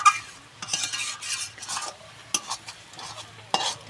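A spatula scrapes and stirs lotiya fish jhuro in a pan, with soft sizzling frying beneath as the water cooks off; close, repeated scraping strokes at an uneven rhythm, with no talking.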